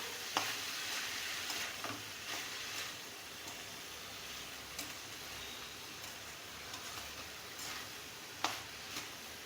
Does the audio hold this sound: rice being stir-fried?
yes